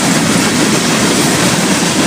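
A Florida East Coast Railway freight train with hopper cars rumbles past very close and loud, with a dense steady roar of wheels and rattling cars.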